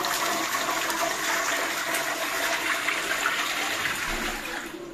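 A public toilet flushes close by, a loud steady rush of water that holds for about four seconds before starting to ease off at the end.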